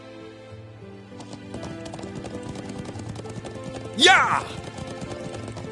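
Horse hooves clip-clopping at a steady riding pace in a video game, close and rhythmic under voiced game dialogue, with a horse's whinny rising sharply partway through.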